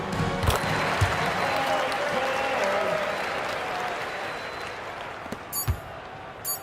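Roaring arena crowd noise from a basketball video game, a steady wash of cheering and applause with a few sharp whistles and thuds near the end, fading slightly over time.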